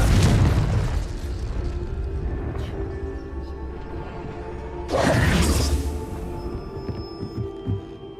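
Confringo blasting spell in Hogwarts Legacy, a deep booming burst at the start and a second sharp explosive blast midway, each trailing into a low rumbling hum.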